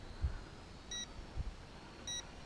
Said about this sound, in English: I'm getting a continual beep.